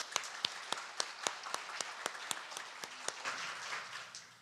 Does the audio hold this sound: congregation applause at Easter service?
yes